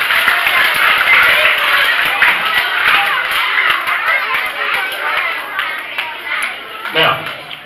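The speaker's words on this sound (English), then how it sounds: "Give yourselves a round of applause for learning the right thing to do." Children clapping together in a classroom group, a dense, continuous patter of many small hands with scattered chatter, fading slightly before a brief louder burst near the end.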